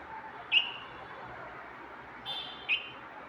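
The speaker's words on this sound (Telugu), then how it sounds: "చూడండి, పైన ఒక పక్షి ఉంది, అది అరుస్తుంది" A single bird calls from somewhere overhead in a quiet natural setting, giving a short, clear chirp, then two more brief calls a couple of seconds later over faint background hiss.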